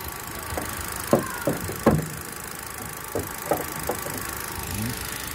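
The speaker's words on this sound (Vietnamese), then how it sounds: "có máy nổ cực kỳ là êm và chất, không có rung giật gì cả" A 2015 Kia Morning engine idles smoothly with a steady, low, even hum, broken by a few soft knocks and taps nearby, and no talking.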